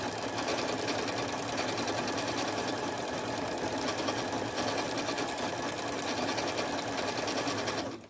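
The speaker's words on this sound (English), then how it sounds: "this machine is it's a memory craft. It's a 9450 QCP." A Memory Craft 9450 QCP sewing machine stitching at a steady fast pace, its even mechanical whir and needle rattle continuous and close, cutting off at the very end.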